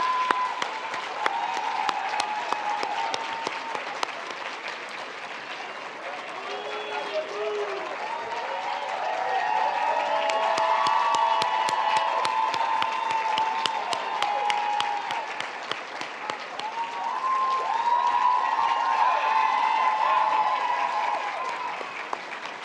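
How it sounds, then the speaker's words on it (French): Audience applause at a gala, a sustained wash of clapping that swells and fades in waves across the room, with voices and cheers mixed in. "J'aimerais ça qu'on leur donne une bonne main d'applaudissements."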